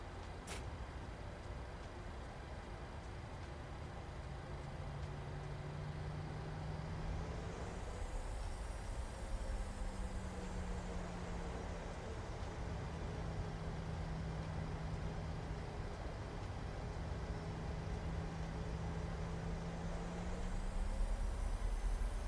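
A PMDG 737-700 taxiing in Microsoft Flight Simulator: steady jet engine rumble and broadband roar with a whining tone that rises and falls in slow sweeps, continuous and fairly close, with no talking.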